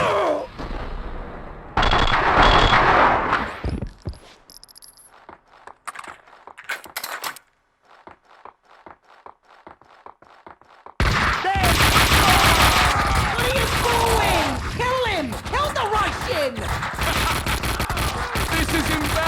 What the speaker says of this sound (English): It's Payne! Shoot